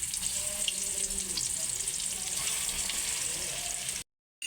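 Chicken pieces frying in hot oil in a kadai, a steady, fairly quiet bubbling sizzle that holds evenly for several seconds before cutting out.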